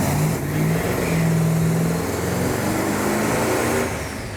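An older Dodge Daytona's engine revs and holds near 5,000 RPM, a loud, steady, close mechanical drone that swells and settles without talk.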